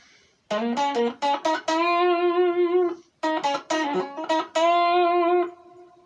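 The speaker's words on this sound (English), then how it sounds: "This is the reverb, this is digital reverb off the floor." Electric guitar through digital reverb plays two short phrases of quick picked notes ending in sustained tones, each ringing out with a smooth reverb tail between phrases.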